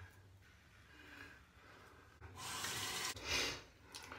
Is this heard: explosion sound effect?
no